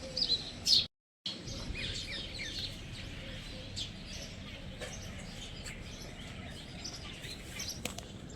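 Sparrows chirp at a home where tobacco is grown, a steady flock twitter of small calls under faint background noise, with brighter peaks near the start.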